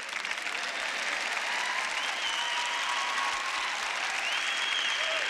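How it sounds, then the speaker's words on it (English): Large conference audience at a Christian teaching event applauds continuously, a dense, even wash of clapping throughout, with faint voices and cheers mixed into the crowd. "you can clap if you want to"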